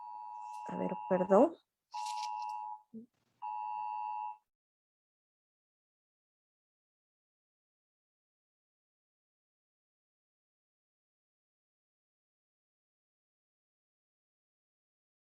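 An alarm beeps with a few short, steady tones interrupting a spoken lecture, and a brief apologetic word is spoken among them. Everything then falls silent.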